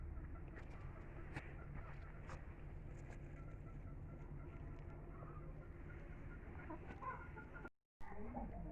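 Golden Heavy Buff chickens cluck at a poultry breeder's farm in Pakistan, with scattered clucks and calls over a steady, fairly loud farmyard background and a brief dropout near the end.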